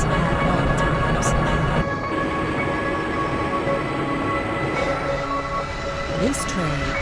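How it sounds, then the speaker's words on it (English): Black Mesa transit tram from the Half-Life video game rolling steadily along its rail, a continuous loud mechanical rumble and hum with faint squeals near the end, under an announcer's voice. "This train is inbound from the Area 8 topside dormitories to the Central Transit Hub in Area 9."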